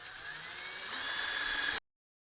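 Power drill boring holes into an old wooden board while building a winter hoop house for a raised garden bed, a steady high whine that rises slightly, then stops abruptly.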